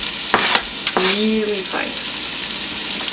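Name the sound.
finely chopped garlic sautéing with onions in a pan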